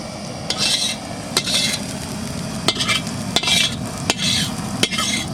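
A utensil stirs potol chingri, pointed gourd with prawns, in a sizzling pan, with sharp scraping strokes roughly every second over a continuous frying hiss, close and clear, no voices.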